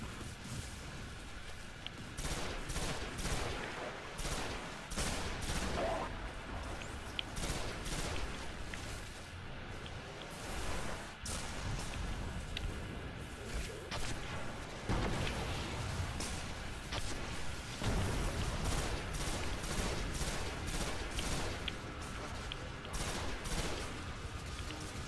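Dense, sustained gunfire from the video game Destiny, rapid shots and bursts crackling nonstop for about 25 seconds at a steady, loud level.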